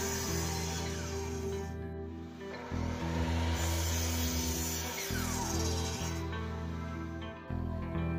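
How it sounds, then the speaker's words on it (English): A miter saw cuts through an old 2x12 board in two passes, a loud steady motor whine dipping under load, with a brief pause between the passes and the blade spinning down at the end. "it was a little too wide for the miter saw, so I had to cut it in 2 passes."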